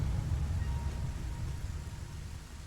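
Rain falls in the Satisfactory video game as a steady low rumbling patter, fairly loud and continuous with no talk.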